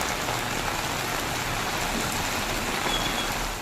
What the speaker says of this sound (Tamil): இதேபோல் செங்கல்பட்டு, காஞ்சிபுரம் ஆகிய சுற்றுவட்டார பகுதிகளில் கனமழை பொழிந்தது.